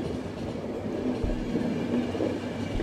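A train rolls along steadily in the video game The Final Station, a continuous low rumble with a faint rhythmic clatter of wheels, loud and unbroken throughout.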